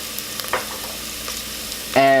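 Onion with a teaspoon of mixed spice fries in a pan. A low, steady sizzle is broken by a few scrapes, then a louder tonal clatter of cookware near the end, with no speech.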